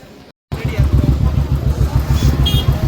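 A motorcycle pulls away, its engine rumbling loud and close with a steady pulsing putter after a brief cutoff, while people chat in Tamil over it.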